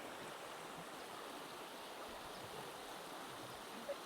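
A creek flows steadily beside a hiking trail on Canada Creek Trail in Suches, Georgia. Its rushing water makes a continuous, even wash that fills the whole clip, close and unbroken.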